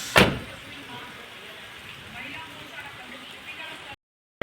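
Steady rain falls outdoors as an even, hissing wash of noise, opening with one sharp knock and running for about four seconds before cutting off abruptly.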